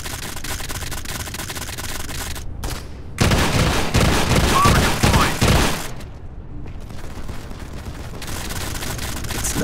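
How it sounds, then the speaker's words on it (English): A grenade detonates in a Modern Combat 5 multiplayer match, a sudden loud burst with a few seconds of rumbling, crackling debris before fading into quieter battlefield ambience. "It's a grenade."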